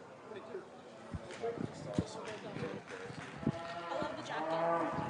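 Cattle low and moo in a livestock show ring at a beef expo, heard faintly amid hoof clatter and crowd noise, while a voice talks over the arena sound.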